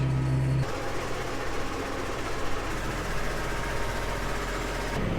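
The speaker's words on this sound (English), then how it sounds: "We're heading down to the farm with the tractor and the trailer" A tractor engine idles steadily with a low, continuous rumble and vibration, close by, as a farm harvest gets under way; a brief louder low tone opens the sound before it settles into an even drone.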